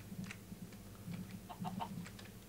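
Chickens in the Minecraft video game cluck in short, quiet bursts, a few brief pecking calls spaced unevenly over a soft background.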